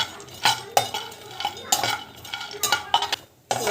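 A spoon scrapes and clinks against a pan in irregular strokes as protein laddu ingredients are stirred and fried, with a soft sizzle underneath and no voices.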